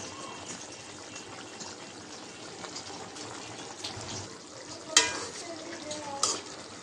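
Fish stirred with cumin powder in a pan: a soft, steady sizzle of frying with light scraping, broken by two sharp utensil clinks against the pan near the end.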